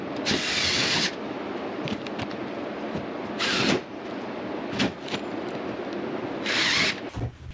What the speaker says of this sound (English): So just gonna throw some screws in here and we'll be done.